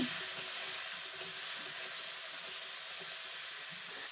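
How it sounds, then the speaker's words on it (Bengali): Cut potatoes frying in hot oil for a chickpea ghugni, giving a steady, soft broadband sizzle that holds evenly throughout with no talking. "আলুগুলো আমি ভালো করে তেলের মধ্যে ভেজে নেব"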